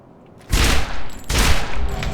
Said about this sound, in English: should we consider Sledge's shotgun as a burst fire weapon?